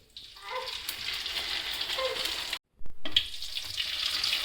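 Rice flour papads frying in hot, generous oil in a home kitchen, giving a steady hissing sizzle with a brief break, close and alone without talk.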